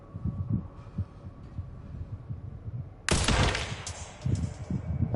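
Gunfire in the survival horror game Resident Evil Requiem, a loud sharp burst of shots mid-clip after quieter thuds, with a fainter pair of shots near the end.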